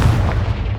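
Confringo, an explosive spell in Hogwarts Legacy, lands as a deep, heavy explosion, loud and close, its low boom rumbling through the whole short moment.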